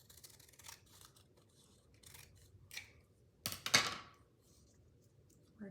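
Scissors snip through green paper for a paper tree craft, with soft scattered cuts followed by two sharper, louder snips close to the microphone in a quiet room.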